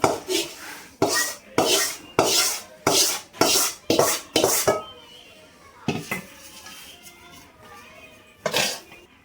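Flattened rice flakes and puffed rice tipped into a wide bowl: a quick series of about eight dry, rustling pours in steady rhythm, then sparser scattered rattles and one last pour, close and fairly loud, with no talking.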